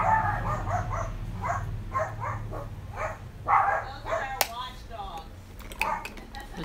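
Several dogs give short yips, barks and whimpers in a steady series over low background hum, with a couple of sharp clatters near the end.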